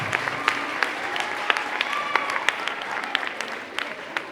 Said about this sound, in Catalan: Moltes gràcies, un fort aplaudiment.